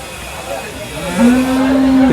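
A single deep, drawn-out moo from a bull at a cattle market, loud and close, sustained for about a second over a steady outdoor background hum.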